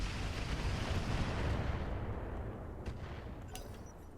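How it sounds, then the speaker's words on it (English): A big explosion in the BattleTech/RogueTech mech combat game: a loud sustained blast rumble that swells, then fades, followed by a few sharp crackles and metallic clicks near the end. "one of my pilots may have died because of the explosion"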